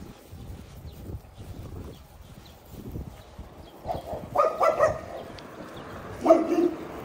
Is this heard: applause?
no